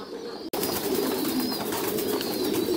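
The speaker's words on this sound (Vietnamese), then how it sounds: "bây giờ là đang đến giờ cho chim bồ câu ăn rồi" Thai Titan pigeons cooing together at feeding time on a pigeon farm. After a brief cut, a dense, steady chorus of overlapping low coos carries on close by, with no talk.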